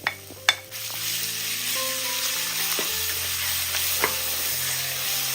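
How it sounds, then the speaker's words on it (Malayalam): Grated raw mango stirred with spices in a hot pan gives a steady close sizzle and frying hiss throughout, with a couple of sharp utensil scrapes near the start and a light knock later on. "ഒരു 2 മിനിറ്റ് ഒന്ന് ഇളക്കി കൊടുക്കാം"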